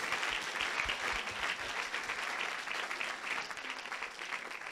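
Steady congregational clapping and cheering fills a church service after testimonies, a continuous dense wash of applause, fairly distant and even throughout.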